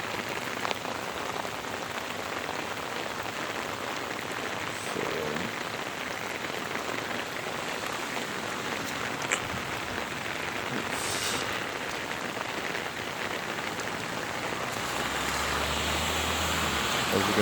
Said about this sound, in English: it was raining pretty heavy